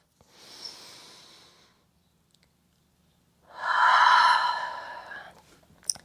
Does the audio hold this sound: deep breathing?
yes